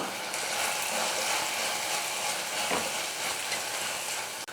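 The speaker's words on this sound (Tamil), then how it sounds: "ஒரு நிமிஷத்துக்கு வந்து இந்த மசாலாலாம் நல்லா வதக்கிக்கலாம்" Masala spices with turmeric, salt and chilli powder sautéing in a pan over a low flame, a steady soft sizzle and hiss with faint stirring, no talk.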